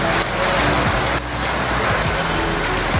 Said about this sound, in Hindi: बारिश इतनी तेज़ है कि बस क्या बताऊँ